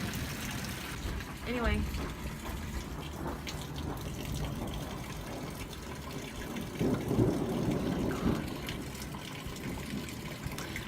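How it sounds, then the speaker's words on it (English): Rainwater running after a rainstorm gives a continuous rushing and gurgling flow, moderately loud with a stronger surge near the end, while someone speaks briefly over it. "Look at all that water running."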